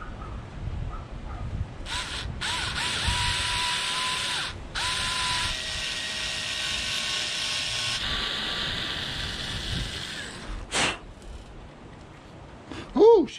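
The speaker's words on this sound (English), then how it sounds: "I'm actually going to have to drill this out as well to M3." Low speed drill boring a hole out to M3 for a spoiler mount, a whining motor in several short runs with pauses between, close up, ending in brief clunks.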